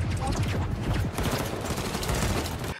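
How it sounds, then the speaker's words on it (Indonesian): A film soldiers' volley of gunfire: dense, loud overlapping shots and blasts fill nearly three seconds as a continuous fusillade, cutting off abruptly at the end. "Melihat hal itu, An menyuruh pasukan untuk serentak menembaknya"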